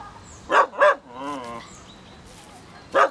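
A dog barks twice in quick succession, loud and close, in a home drama scene; a third bark follows after a pause with a faint tonal sound in between.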